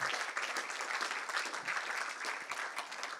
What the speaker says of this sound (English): I'd like to say one more round of applause